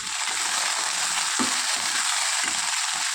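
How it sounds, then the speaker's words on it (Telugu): Green chillies fry in hot oil in a pan as they are stirred up and down for a Telugu onion-chilli chutney, giving a steady close sizzle with a few soft scraping stirs and no talking. "ఈ విధంగా మాడిపోకుండా పైకి కిందికి పచ్చిమిర్చిని కలుపుకుంటూ మగ్గించుకోవాలి"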